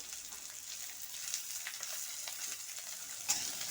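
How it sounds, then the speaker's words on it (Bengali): Potato pieces fry in hot oil in a pan, a bright, crackling sizzle with light stirring scrapes and a sharper pop near the end, heard up close with no talking. "এই তেলের মধ্যে এই আলুগুলো ছেড়ে দেবো ভাজা করব"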